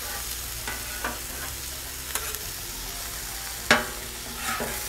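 Onions browning on a hot flat top griddle give a steady, fairly quiet sizzle, broken by a few soft scraping and stirring clicks and one sharper tap near the end.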